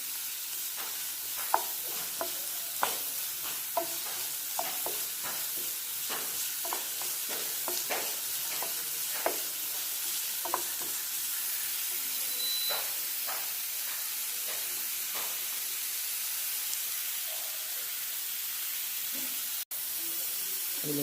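Crushed ginger and garlic sauté in hot coconut oil with a continuous soft hiss, broken by many quick stirring taps and scrapes, close and moderately quiet, with one sharp click near the end.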